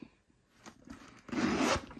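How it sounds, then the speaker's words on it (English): The zipper on the pouch of a Louis Vuitton Neverfull bag gives a quiet, close rasping pull, faint ticks early and then one longer zip near the end. "And then there is the zipper right here"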